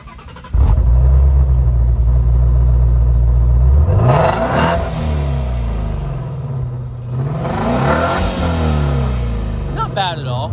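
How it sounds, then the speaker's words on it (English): A stock 2016 Shelby GT350 with active exhaust starts and idles with a deep loud rumble, then revs twice, each rise swelling and falling back, with a voice briefly heard at the end. "Now, as far as the exhaust, this exhaust is stock, but it does have the active exhaust."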